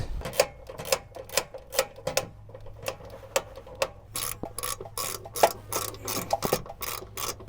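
Ratchet wrench tightening bolts on a Chevrolet Silverado AC condenser, sharp clicking strokes in quick repeated bursts with short pauses between, close and clear with no talking.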